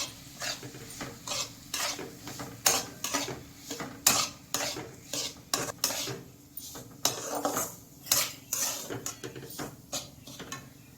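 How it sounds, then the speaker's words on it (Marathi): Semolina (rava) roasting in hot oil for mango sheera is stirred in a pan, a rhythmic run of metal spoon scrapes and clinks over a soft, steady sizzle, close and fairly quiet. "तेल गरम झाले, आता मी रवा टाकून घेतलाय तेलामध्ये आणि रवा छान असा भाजून घ्यायचा आता"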